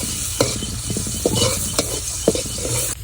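Chopped onions sizzle and fry in hot oil in a wok for pulao in a village kitchen, a steady close hiss broken by scrapes and clicks of stirring.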